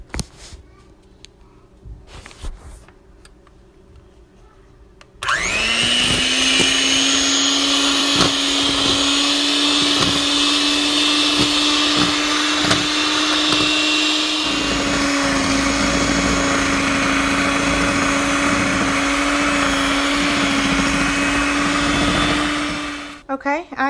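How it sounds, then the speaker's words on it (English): An electric mixer whirs steadily as butter is beaten with sugar into wacky cake frosting, starting abruptly after a few seconds of quiet clatter, running loud and constant near the mic with a brief shift in pitch midway, then cutting off at the end. "add our butter, and we want to just mix that until it is a real fine"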